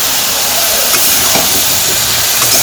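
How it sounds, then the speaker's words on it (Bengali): Vegetables seasoned with salt, turmeric and chili sizzle steadily while being sautéed in a pan, a loud continuous hiss with no break and no talking. "আমি সবজিগুলো ভালো করে কষিয়ে নিই।"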